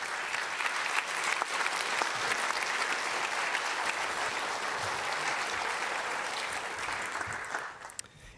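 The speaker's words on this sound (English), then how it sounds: "help me thank my panel by applauding" An audience at a democracy summit gives a panel sustained applause, a thick, even wash of clapping lasting several seconds before fading out at the end.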